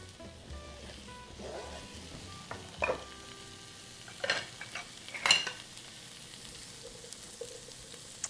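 Onions frying in a pan, a faint steady sizzle with occasional clinks and stirring scrapes, close by and quiet.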